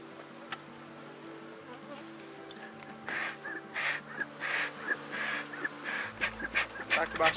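Apis honey bees buzzing around an opened hive during a hive split with smoke in use, a soft hum under quiet handling noises, growing louder in close passes and swells during the second half.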